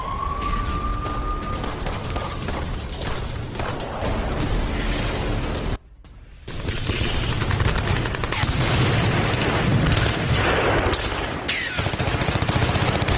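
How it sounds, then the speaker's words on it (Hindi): Ukrainian forces fire on the Russian army in war footage, with rapid bursts of gunfire and clattering volleys, a brief rising whine near the start and a sudden short break midway. "रशियन सेना पर यूक्रेन की धुआंधार फायरिंग"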